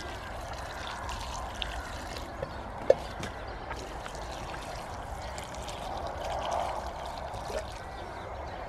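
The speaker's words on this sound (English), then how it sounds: "Right, we'll just water them in. Go round and round them." Water pours from a watering can onto newly planted brassicas in a garden polytunnel, a soft steady splashing and trickle into soil, faint and continuous with a couple of small knocks.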